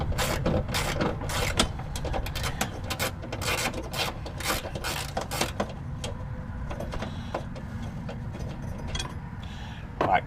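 A 12 mm wrench working a bolt loose on a Toyota Tundra battery bracket, giving quiet repeated metallic ratcheting clicks and scrapes in short bursts, close up, then fading to faint fiddling.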